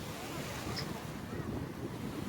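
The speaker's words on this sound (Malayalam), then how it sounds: "തിരമാലയ്ക്കും കുറച്ച് ശക്തിയുണ്ട്" Sea waves wash over a busy beach in Pattaya, Thailand, with a soft, continuous rush, mixed with wind on the microphone, faint and distant.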